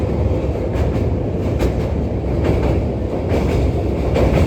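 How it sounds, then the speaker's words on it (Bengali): Inside the Sealdah–Malda Town Gour Express, an LHB-coach train hauled by a P7 locomotive, the car crosses the Jubilee railway bridge over the Ganga slowly in thick fog: a loud, steady rumble with rhythmic wheel clacks, heard close through an open window. "ব্রিজটা পার করছে আস্তে আস্তে"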